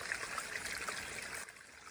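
A creek flowing outdoors, water trickling and rushing in a steady broadband wash that drops slightly quieter near the end, with no talking.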